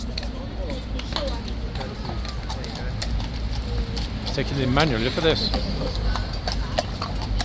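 Horse hooves clip-clop on a hard surface amid outdoor bustle, with people talking over the steady rhythm of the steps.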